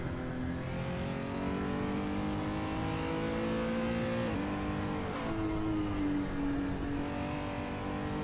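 Race car engine in a VR sim racing game, a continuous loud drone whose pitch climbs and drops with gear changes and shifts of speed, with no voices.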